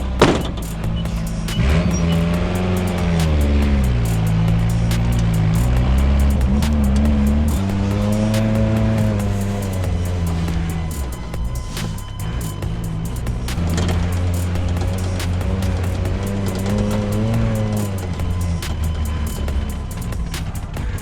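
An old Nissan truck engine runs steadily for most of the clip, with a loud, close rumble that rises and falls in pitch in several long revving swells. No one speaks.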